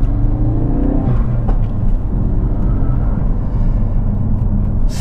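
A Ford Focus RS pulling hard from a standing start, its engine note rising under load into a loud, steady rumble with road roar, heard close from inside the car with no talking.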